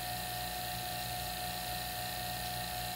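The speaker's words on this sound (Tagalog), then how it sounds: "So bago natin patayin ang ating vacuum pump." A vacuum pump hooked to a refrigerator's gauge manifold during refrigerant charging hums in a steady, unchanging drone, fairly quiet and continuous throughout, with no talk over it.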